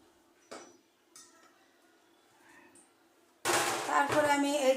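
Chopped onions hit a hot pan of cooking fish and snowy beans with a sudden loud, sustained sizzle, preceded by a few faint metallic clinks of utensils against the pan.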